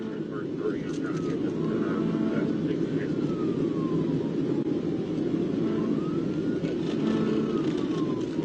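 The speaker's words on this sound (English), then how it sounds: "Without hesitation, Trooper Lucas flipped on his lights and sirens, and just like that, the pursuit was on" A police car siren wailing during a highway pursuit, rising and falling sweeps over loud, constant road and engine roar, with talk heard over it.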